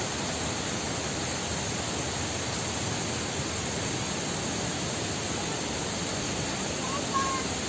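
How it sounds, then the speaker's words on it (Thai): Haew Suwat waterfall in Khao Yai sends a steady, dense roar of rushing water, loud and unbroken throughout with no other sounds standing out. "ตอนนี้เรามาเที่ยวน้ำตกเหวสุวัส์กันนะคะ"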